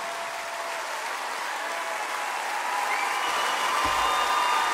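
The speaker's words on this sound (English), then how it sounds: "Make a huge round of applause for this band" Grand Ole Opry audience applauding a country band on a Saturday night, a dense continuous roar of clapping that swells slightly louder toward the end, with a brief low thump near the close.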